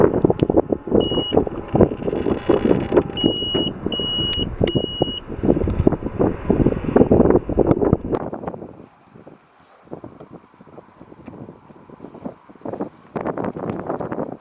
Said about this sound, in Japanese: リミットのブザーが鳴るまでボタンを押します